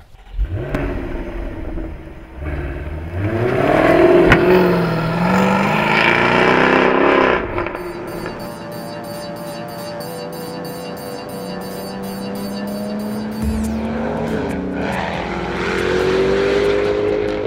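A Jaguar sports car, the modern successor to the 1960s E-Type, roars loudly on a race circuit, its engine note climbing and falling through several revs and gear changes with a sustained high drone, then surging again near the end.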